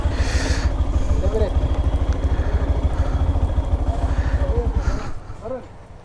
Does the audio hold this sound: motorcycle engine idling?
yes